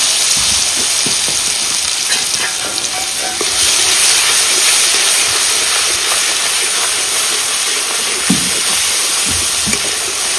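Dry red chillies, bay leaf and cumin crackle and sizzle in hot oil as tempering for a large rohu fish curry, a dense, steady frying hiss held close and loud throughout with a few sharper pops near the end.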